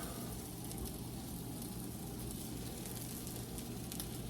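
Food sizzling steadily in a pan while mushrooms fry for a steak dinner, a constant dense crackle that stays even and close throughout.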